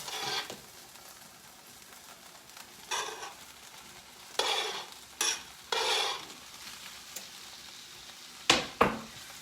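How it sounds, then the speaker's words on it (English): Mushrooms and onions sizzle in a big frying pan with a steady hiss, broken by louder bursts of stirring and a couple of sharp utensil knocks against the pan near the end; no talking. "I am now going to add the mushrooms and onions."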